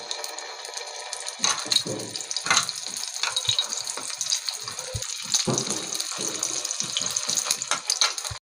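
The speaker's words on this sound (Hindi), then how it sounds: "ये अंडे में हमने इसको डिप कर लिया शामी को। ये हम इसको करते हैं फ्राई।" Shami kababs, chicken patties dipped in beaten egg, frying in hot oil in a pan, giving a steady close sizzle with scattered crackles and pops throughout, no voices.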